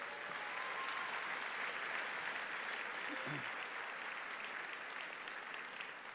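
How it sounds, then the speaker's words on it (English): Banquet audience at a convention evening giving a round of applause, a broad sustained wash of many hands clapping across a large room, with a brief voice surfacing faintly in the middle. "One more round of applause,"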